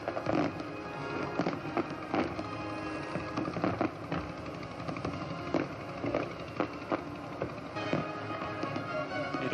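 Fireworks burst over the harbour during a Royal Australian Navy 75th anniversary fleet review in 1986, a steady stream of distant pops and crackles over a dense rumbling wash.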